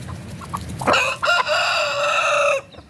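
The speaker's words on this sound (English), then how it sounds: "My poor baby hens." A rooster crows loudly and close, a long drawn-out call that follows a few soft clucks.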